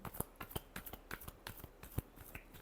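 Tarot cards being shuffled by hand, a quick series of soft crisp riffles and slaps with short pauses, close and quiet, with no talking.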